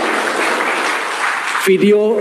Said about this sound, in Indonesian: Tepuk tangan sekali lagi untuk Bapak Menteri